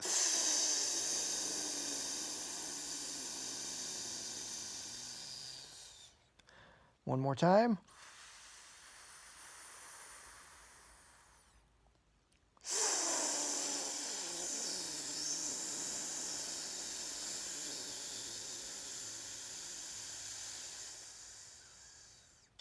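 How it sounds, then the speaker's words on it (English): A long breathy hiss of exhaled air runs for several seconds, stops, then starts again after a brief spoken phrase, and trails off slowly. "let's take a nice big deep breath and hiss it out"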